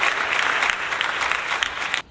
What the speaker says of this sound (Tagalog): Bigyan nga ng 5 palakpak ang inyong mga sarili